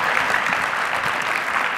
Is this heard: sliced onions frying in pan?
no